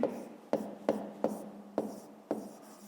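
A pen writes on paper during a fifth-grade math exercise, six distinct scratching strokes at a steady rhythm, close and quiet.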